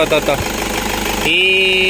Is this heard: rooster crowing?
no